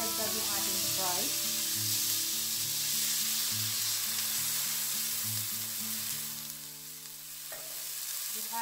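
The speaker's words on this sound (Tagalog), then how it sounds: "pwede na natin idagdag yung ating Sprite" Sprite is poured into pork frying in a pan, adding to a steady loud hiss of sizzling oil and liquid, with some stirring, while a tonal melodic background runs underneath.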